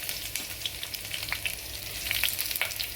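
Mustard seeds, crushed garlic and chopped green chillies fry in about a spoon and a half of hot oil, giving a close, dense crackling sizzle with small popping bursts throughout.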